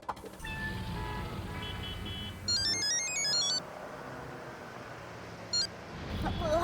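A telephone rings as someone places a call, with a faint electronic ringtone trill sounding twice over a low background hum, far and soft.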